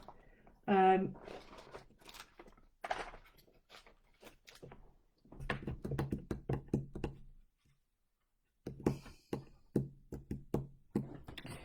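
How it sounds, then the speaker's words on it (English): Pens and pencils get moved around and knocked over on a craft table, making clusters of close clattering knocks and rattles in bursts, with a pause partway through. "I'm going to have to move these because I'm putting my elbow in them and knocking them all over"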